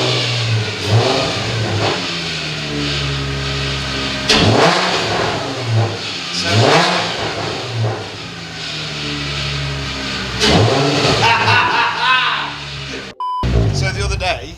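A Nissan 350Z with a power steering pipe popped off its cooler revs loudly and close, with repeated rising engine sweeps and a harsh, noisy mechanical edge, plus a brief beep near the end.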